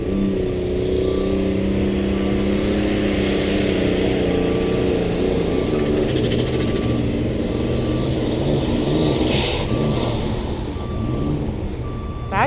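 Alcohol-burning pulling tractor roaring at an outdoor tractor pull, a loud sustained engine drone with wavering pitch, joined by a repeating electronic beep and crowd ambience.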